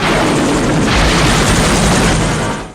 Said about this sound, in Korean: 결국 헬기 한 대가 격추당합니다